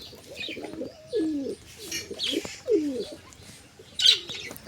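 Black pigeons coo close by in a series of soft, throaty rolling calls, with brief higher chirps and a flutter of wings between them.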